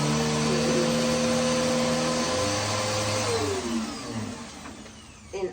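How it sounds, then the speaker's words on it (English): A vacuum cleaner runs loudly on a bedroom floor with a steady whining motor drone. The pitch shifts as it moves, then the motor winds down near the end with a clunk. "let me go ahead and vacuum the floor"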